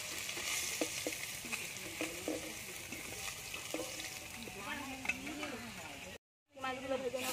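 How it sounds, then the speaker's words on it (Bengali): Fish fry in a pan with a steady oily sizzle and occasional stirring scrapes, while a voice speaks faintly underneath, and a short silent gap comes near the end. "মাছগুলো ভেজে নেব"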